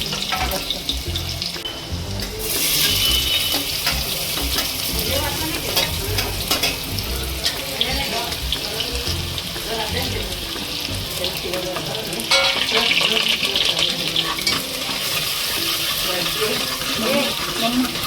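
Garlic frying for a curry gravy in a home kitchen: a steady sizzle and crackle with stirring, mixed with running tap water at the sink, close and continuous, with brief background talk.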